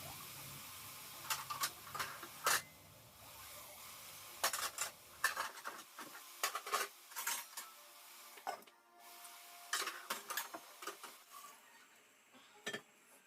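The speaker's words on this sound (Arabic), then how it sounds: "هبتدي بقى اقلب بقى كده اللحمة في التوابل اللي انا حطيتها دي" Meat being stirred with spices in a cooking pot for Egyptian taro with green coriander, giving a run of close scraping and clattering spoon strokes against the pot, loud and uneven, with no talk.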